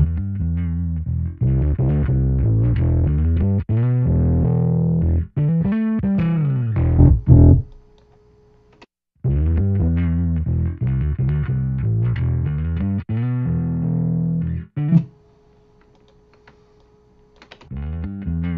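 Bass line run through a Decapitator distortion plugin, gritty harmonic-rich notes in repeated phrases broken by two short pauses, loud and clear with no voice.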